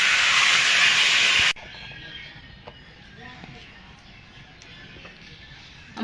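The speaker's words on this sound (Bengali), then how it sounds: "এবার জল দিয়ে দেবো।" Water hits a hot pan of rohu fish curry with potatoes and ripe tomatoes and gives a loud, sharp sizzling hiss for about a second and a half. It then drops to a quiet simmer with faint pops.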